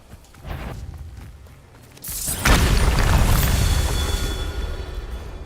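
Bombarda explosion spell cast in Hogwarts Legacy: after a brief lead-in, a sudden loud booming blast erupts and lingers as a long, rumbling, crackling roar that slowly fades.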